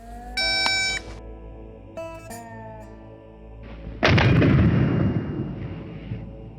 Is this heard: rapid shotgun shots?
yes